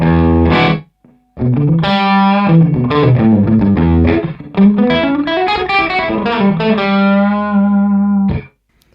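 Distorted electric guitar playing chords and notes through a REVV D20 amp, with a short, boomy basement room ambience; a brief pause near the start, then continuous playing.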